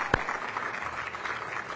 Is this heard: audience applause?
yes